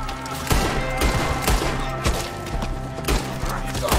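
Rapid gunfire in Red Dead Redemption 2 during a shootout with enemies up in the trees: dense, overlapping volleys of loud shots cracking about every half second over a continuous din of battle.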